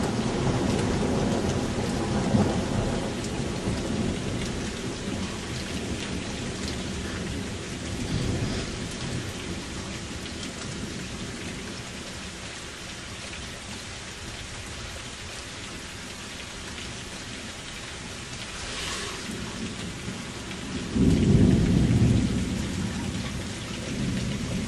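A heavy thunderstorm pours steady loud rain throughout, with deep rolling thunder swelling in the middle and a strong close rumble near the end; no one speaks.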